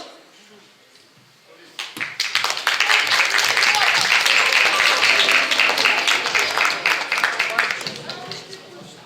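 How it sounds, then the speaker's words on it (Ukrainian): An audience claps for the first contestant at a Ukrainian patriotic cadet competition, a burst of applause rising suddenly after a quiet start, holding steady for several seconds, then thinning out. "Оплески першому учаснику"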